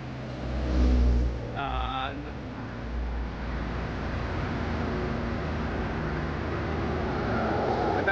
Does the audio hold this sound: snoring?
no